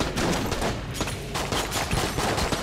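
Room turrets firing in the dungeon shooter Enter the Gungeon, a steady stream of rapid gunfire with repeated sharp shot bursts, loud and continuous throughout.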